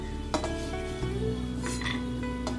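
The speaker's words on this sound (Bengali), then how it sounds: "ড্রাই ফ্রুটগুলো ভেজে রাখলাম" Cashews and peanuts frying in ghee in a wok, a steady low sizzle broken by clinks and scrapes of a utensil against the pan, ending in a louder knock.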